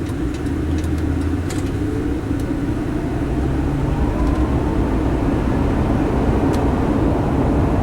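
A 2011 Ford Crown Victoria LX with its V8 engine running while driving, giving a steady low rumble and road noise that stays even and moderately loud throughout, with no talk.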